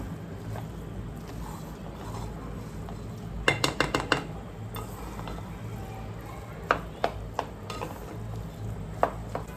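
Rice and prawns are tossed together in a pan, with a clatter of a metal spoon knocking against the pan in several quick clinks and scrapes over a low cooking hiss.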